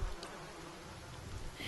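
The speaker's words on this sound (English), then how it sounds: "The only answer you hear is the buzzing of flies from the tree." Flies buzz around a tree in a video game's Gilded Veil area, a steady faint insect drone that hums continuously throughout, with no talking over it.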